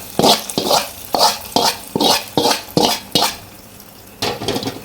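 Fried shallots poured into cucumber pachadi, giving a series of about eight close, evenly spaced sizzling splashes and scrapes, each a short burst, with no talking.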